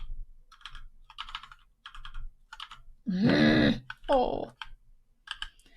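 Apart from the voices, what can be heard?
typing on a computer keyboard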